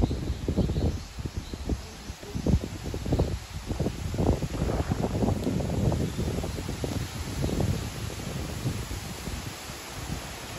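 Strong gusty wind in a park in Japan buffets the microphone, rumbling and roaring unevenly with rustling over a steady background hiss.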